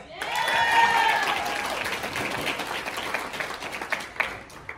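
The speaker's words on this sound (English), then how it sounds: "A round of applause" A party crowd applauds for Shelbi's sweet sixteen birthday, a dense wash of clapping with some cheering that swells early and then slowly thins, with scattered voices mixed in.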